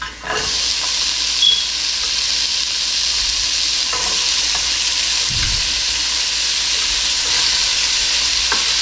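A steady, loud sizzle of chopped onions frying in a hot pan, with occasional soft scrapes of stirring.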